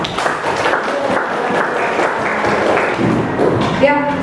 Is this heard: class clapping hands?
yes